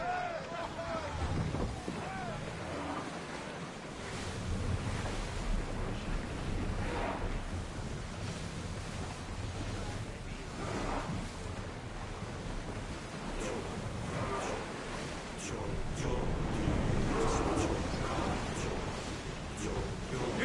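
Greek warship under sail and oars at sea in the game Assassin's Creed Odyssey, with continuous rushing wind, splashing waves and hull noise, while crew voices call out over it.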